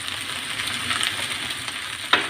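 Spring onions sautéing in olive oil for Aegean-style stuffed vine leaves, giving a steady soft sizzle throughout with a brief louder crackle near the end.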